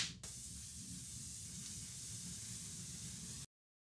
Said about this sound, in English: I got the steamer going already. So I'm gonna steam this joint